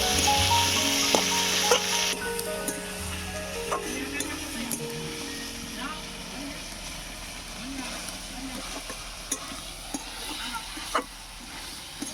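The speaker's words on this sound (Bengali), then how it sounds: "আলু আর ছোলাটাকে দেখো আমি ভালো করে কষিয়ে নিয়েছি" Potatoes and chickpeas sautéing in a pan, a soft sizzle with scattered clicks and scraping from stirring, fairly quiet under someone talking throughout.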